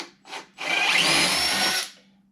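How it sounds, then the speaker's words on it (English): A power drill bores a 1/4-inch hole through wood for carriage bolts, with two short trigger blips followed by one steady high whirring run of about a second and a half that winds down, close and loud. "And then you're just going to drill"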